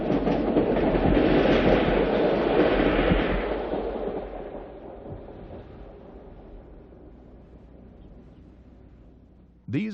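The Spirit of St. Louis, train number 31, rumbles past nearby as a diesel passenger train, loud at first and then fading steadily into the distance, with a sharp short noise right at the end.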